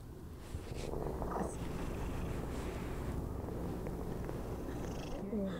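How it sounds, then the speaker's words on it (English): A cat purrs close up, a low continuous rumbling drone with a soft rhythmic pulse, steady throughout with no one speaking. "Get her to purr."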